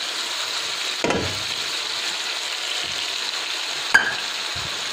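Fried prawns and taro chunks sizzle in a pan, a close continuous frying hiss broken by a couple of sharp scrapes and knocks from stirring, with no talk.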